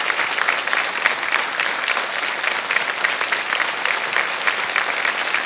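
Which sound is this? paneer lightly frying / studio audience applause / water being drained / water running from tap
studio audience applause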